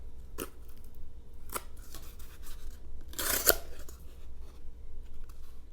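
A D2 steel VYRkniv V901 folding pocket knife slicing through rope, heard as a few sharp fibrous snaps and one louder crunching cut near the middle, close up against quiet room noise.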